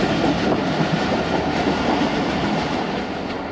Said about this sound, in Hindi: ओकाड़ा कैंट पहुंच रही है दोस्तों ट्रेन हमारी